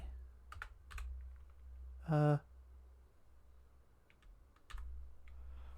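Keys on a computer keyboard are tapped in sparse, scattered clicks at close range, broken by a short electronic beep tone and low background hum.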